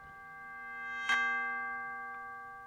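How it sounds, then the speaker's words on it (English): A larger, traditional-style bell rings once with a clear struck attack and a sustained, harmonically rich tone that slowly fades, alone without talk. "but it's more like a traditional, like bigger bell."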